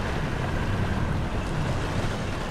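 A ship sailing through water in the video game Gears of War 2: steady, rushing wash of waves and wind noise, broad and continuous, with no voices.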